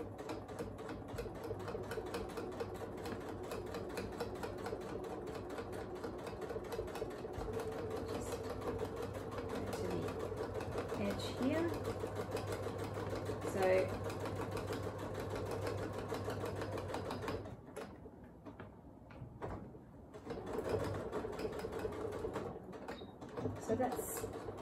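A sewing machine stitches binding onto the edge of a quilt, running in a steady, continuous whir for most of the stretch, with faint talk underneath before it stops briefly and starts up again.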